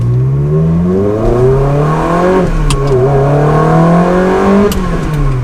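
Ferrari 360 Spider with gated manual gearbox, engine revving loud and close during a missed gear shift, pitch rising, dipping briefly, then climbing again in a steady smooth howl.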